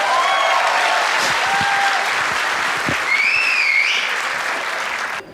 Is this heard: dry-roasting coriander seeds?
no